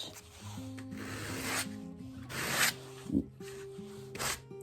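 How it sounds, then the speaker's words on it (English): Sandpaper rubs back and forth over the textured surface of a tin pitcher in a series of close, scratchy strokes of varying length, each ending in a brief pause. "I'm just going to give it a little bit of a sand."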